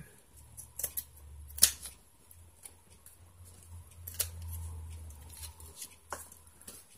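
Scissors snip a few times in short separate cuts, faint and close, amid quiet handling noises and a low background hum during a craft session.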